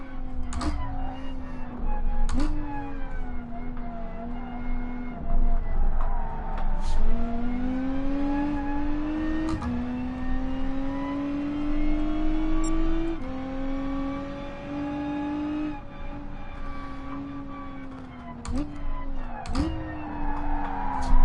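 A Lotus race car circles the Nürburgring Nordschleife in GT Sport, its engine note rising and falling steadily through gear changes with sharp shift breaks, loud and continuous throughout.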